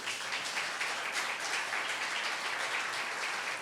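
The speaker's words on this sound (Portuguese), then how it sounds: "Vamos aplaudir ao Senhor." A church congregation applauding, a steady, moderately distant wash of clapping with no talk over it.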